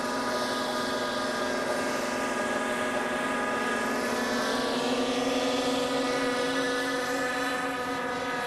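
A radio-controlled model helicopter flies at a steady, close distance, its whining rotor and engine tone holding continuously with slight pitch shifts and no talk.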